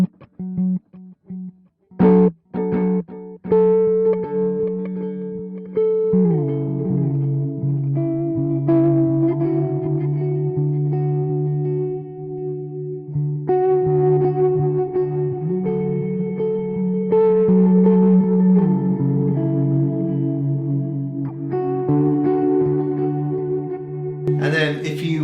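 Clean electric guitar notes through a Line 6 Helix with dual delay and long reverb ring out with repeating delay echoes and long reverb tails, layered chords swelling and trailing off in an ambient wash.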